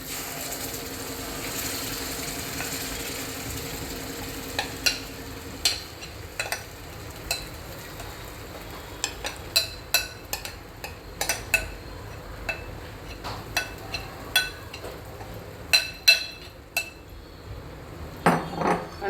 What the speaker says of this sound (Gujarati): અને બેટરનો બરાબર મિક્સ કરીશું.